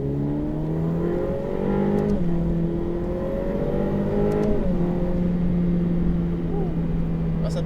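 A Ferrari F8 Tributo accelerates hard on a circuit, its turbocharged engine note climbing through gears with rising tones and brief drops at shifts, loud and close from inside the car.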